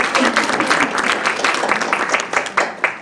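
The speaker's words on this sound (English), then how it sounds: "You can clap for yourself." Graduates and audience applauding at an athlete leadership university graduation ceremony, brisk sustained clapping with a few louder individual claps near the end.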